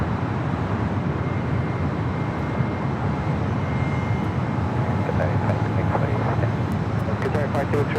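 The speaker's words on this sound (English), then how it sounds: "Next arrival is a private owner of a Embraer Praetor 500 coming in from San" Embraer Praetor 500 private jet arriving at LAX, a steady jet engine rumble over the whole stretch with voices talking over it.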